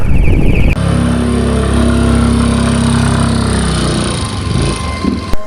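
A loaded scooter engine drones loud and close, straining uphill on a Kathmandu hillside road with a steady low hum that roughens toward the end.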